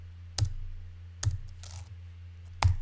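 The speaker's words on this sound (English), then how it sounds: "if I type my own name" Three separate clicks of keys on a computer keyboard, spaced out across a quiet room with a low steady hum behind, like a name being typed slowly, close to the microphone.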